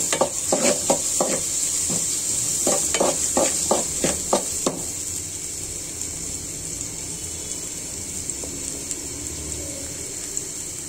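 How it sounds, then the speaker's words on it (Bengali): Masoor lentils sizzle in hot oil in a cooking pot while a spoon stirs them, giving a steady frying hiss with a series of rhythmic scraping strokes that stop after a few seconds. "ডালটা নাড়াচাড়া করে দিব।"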